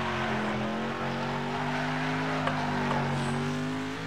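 Car drifting in Next Car Game: a steady engine drone with a continuous tire squeal, smooth and loud from start to end, with a faint click or two partway through.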